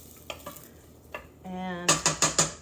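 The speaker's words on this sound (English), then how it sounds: "We're gonna saute that up just to get that soft just a little bit." Vegetables sautéed in butter for broccoli cheese soup, heard as a few light taps of a utensil against a pot, then a brief hiss of sizzling and several sharp stirring scrapes close by.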